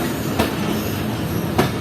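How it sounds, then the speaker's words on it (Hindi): The Awam Express train pulls out of Padidan railway station, heard from inside a lower AC coach as a loud, steady rumble with two sharp wheel clacks over rail joints about a second apart. "तकरीबन 2 मिनट रुकने के बाद ट्रेन निकल गई पडीदन रेलवे स्टेशन से"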